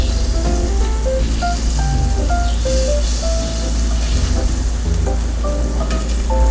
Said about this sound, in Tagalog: Mainit ang pan, pwede na natin ilagay ang ating butter. Hintayin lang po natin itong mag-melt.